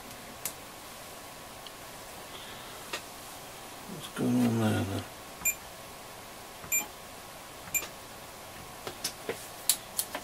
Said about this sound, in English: Continuity buzzer.